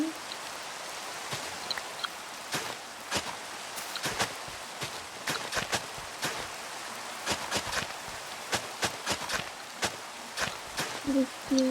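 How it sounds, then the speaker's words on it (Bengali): Rain falls in Minecraft, a continuous hiss broken by repeated crisp footstep-like taps and clicks at an uneven pace. "বৃষ্টি পড়া শুরু হয়ে গেছিল"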